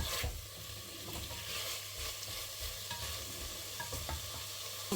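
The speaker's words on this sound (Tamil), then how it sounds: "ஒரு நிமிஷம் மிக்ஸ் பண்ணி கொடுக்கலாம்" Chickpeas stirred into thick chana masala gravy in a pan, giving a continuous soft sizzle with irregular scraping stirs, close but fairly quiet.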